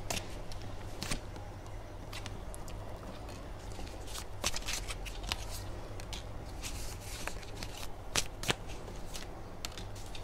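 Tarot cards shuffled steadily for about ten seconds, soft continuous riffling with frequent sharp card snaps, close and fairly quiet, no speech over it.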